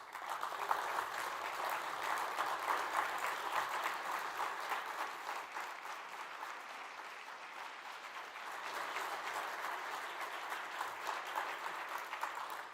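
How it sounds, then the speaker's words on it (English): A standing ovation for Ambassador Sergio Gore at a leadership summit, a dense and sustained wash of applause from a large audience that holds steady for the whole stretch, slightly easing in the middle, with no talk over it. "give His Excellency Ambassador Sergio Gore, the master of friendship diplomacy, a standing ovation he truly deserves"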